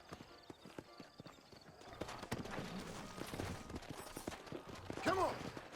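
Horse hooves clip-clopping at a quick, even gallop in the Western video game Red Dead Redemption, moderately close, with a brief whinny near the end and faint gunfire-like bursts in the background.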